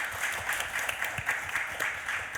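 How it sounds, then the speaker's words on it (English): A conference audience in a large hall gives a round of applause after a science presentation, a soft, even, sustained patter of many hands clapping at some distance. "another round of applause for John, if you please."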